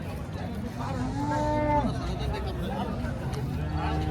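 Cows low at a busy cattle market in Kopargaon, several drawn-out moos rising over a constant crowd babble and nearby talk.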